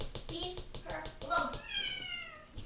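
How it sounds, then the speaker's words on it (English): A 7-month-old kitten meows and cries repeatedly in a long, wavering, baby-like wail, close and fairly loud, with soft tapping and faint voices underneath. "I have a kitten who's 7 months old, and he cries like a baby"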